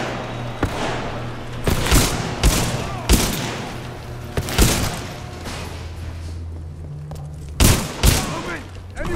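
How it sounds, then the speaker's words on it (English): Several loud, sharp shotgun blasts in Titanfall 2, spaced irregularly amid combat noise and a steady low hum, with a voice talking in between. "Man, I love the shotgun."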